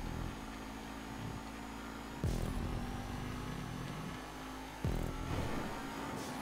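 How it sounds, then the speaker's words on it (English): Exemplar sports car from GTA Online with a steady engine drone, the throttle rising into two short revving surges about two and a half seconds apart, close and continuous with no talk. "I like the noise the exemplar makes."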